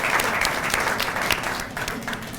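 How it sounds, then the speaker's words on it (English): Guests at an ECOWAS ambassadors' awards reception at the Embassy of Ghana in Washington give a round of applause. The clapping is full and steady and fades slightly toward the end, with no speech over it. "If we could give them a big round of applause for hosting us."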